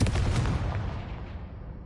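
A Confringo fire spell blast booms out as a heavy explosive burst, loud at onset and then rumbling down into a decaying roar across the whole short moment, with no talking.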